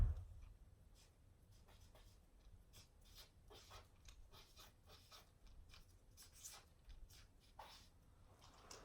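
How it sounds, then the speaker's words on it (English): A marker or chalk writes a word on a classroom board in a run of short, quiet, scratchy strokes with small pauses between them, close by and with no one talking. "I'm going to write this up here."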